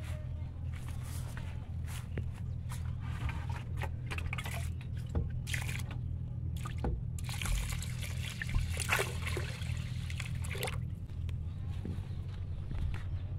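Water trickling and pouring into a cooking pot for egg pulao over an outdoor clay stove, a steady splashing stream with scattered knocks and shuffling nearby.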